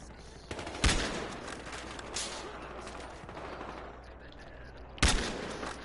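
Gunshots ring out in a first-person shooter video game as a few sharp, loud cracks spaced seconds apart over a low, busy game background, with no talking.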